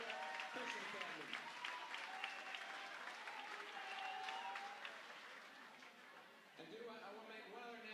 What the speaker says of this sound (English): Let's give one more round of applause for our seniors from our three schools